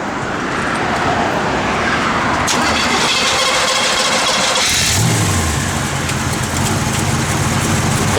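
A 1965 Chevrolet Corvette engine cranks and catches, then settles into a loud, steady rumbling idle close by.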